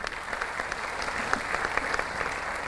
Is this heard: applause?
yes